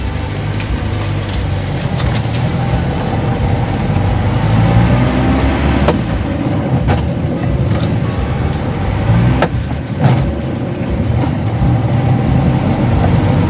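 A 1944 Jeep Willys drives on a test run with loud, continuous engine and road rumble from inside the cabin, with a few brief clunks along the way.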